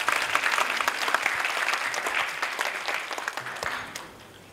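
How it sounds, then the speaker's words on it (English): Audience applause welcoming a speaker at a talk, a dense, steady round of clapping from a large crowd that holds strong before thinning and fading toward the end. "may I please ask you all to welcome Ajahn Brahm with a round of applause."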